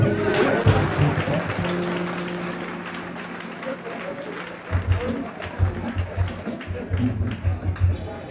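A congregation applauds during a Sunday church service, with clapping heard among voices and music, and rhythmic thumping beats joining in during the second half.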